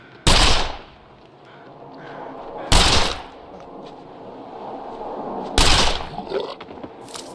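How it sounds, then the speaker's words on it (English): Three loud, sharp pistol shots ring out at roughly even intervals in the survival game The Long Dark, each followed by a brief decay over a low outdoor ambience. "Let's waste some pistol bullets."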